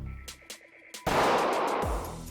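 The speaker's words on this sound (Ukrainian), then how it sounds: "Я просто стріляю" A pistol fires one sharp, loud shot at a shooting range, preceded by a few faint clicks and followed by a decaying ring.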